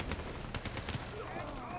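Rapid gunfire in Call of Duty: Black Ops 3 as players shoot down bats, with a dense burst of shots fading into a voice speaking near the end.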